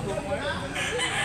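A capon chicken, a Yellow Leg bird at a poultry sale in Consolacion, Cebu, crows close by for a moment amid a busy crowd, with talk going on around it.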